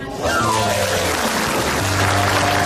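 Studio audience applause at a live Indonesian comedy show, a dense continuous wash of clapping that swells in after a brief pause and holds loud to the end, with a faint tonal background.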